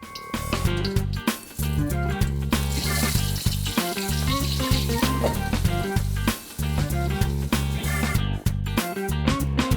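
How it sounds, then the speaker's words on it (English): Eggplant pieces deep frying in hot oil, a loud, continuous crackling sizzle running throughout with steady tonal sounds layered over it. "So now I'm going to just deep fry that in some hot oil for about 2 to 3 minutes"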